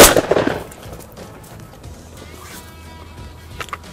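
A single loud, close shotgun blast during pigeon shooting, with a sharp report followed by a fading rumble and quiet outdoor background.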